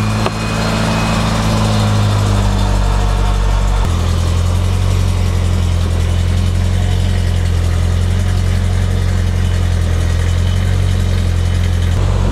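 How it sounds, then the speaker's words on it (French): A Ford Mustang engine idles loudly and steadily up close after an exhaust repair, its low rumble shifting slightly in pitch early on, then holding even throughout; no talking. "maintenant on va faire un essai, je vais démarrer le moteur"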